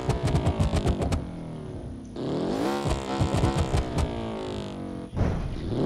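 A crash-damaged car engine in BeamNG.Drive keeps running: a rapid run of ticking clicks gives way to a steady buzzing engine drone whose pitch climbs and wavers, ending in a sharp thump and renewed ticking.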